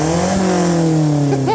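A pickup truck's exhaust rumbles loudly as the engine is revved, with steady low harmonics rising in pitch toward the end, close and alone.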